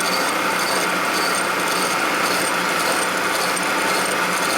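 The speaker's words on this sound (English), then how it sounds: "He's using a slitting saw or hacksaw" A chop saw or hacksaw cuts metal while an XL stroker 650cc single-cylinder Harley Sportster engine is built for land speed racing, giving a steady, loud, continuous rasping grind that holds at one level throughout, with no voices.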